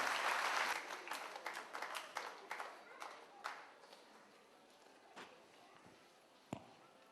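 An audience at a company annual function claps, loud at first and then thinning out into scattered claps and a few isolated hand slaps, heard from some distance in a hall.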